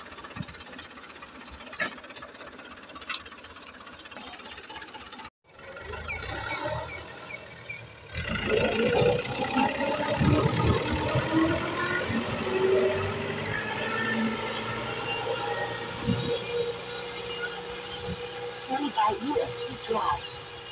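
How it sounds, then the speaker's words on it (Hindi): A tractor in a village draws closer with a knocking, rumbling diesel engine. The engine grows louder and steadier after a brief drop partway through, and carries on strongly to the end. "ट्रैक्टर वाला जो है आ रहा है सामने आके"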